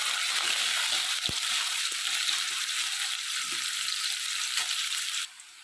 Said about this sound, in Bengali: আমার এখানে গাজরটা ভাজা হয়ে গেছে